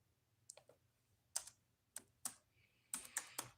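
Computer keyboard typing in short irregular clusters of sharp key clicks, a few isolated taps then a quicker burst near the end, close and clear over a faint low hum.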